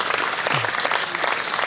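A short burst of clapping and applause from a group, loud and dense, somewhat muffled, with no speech.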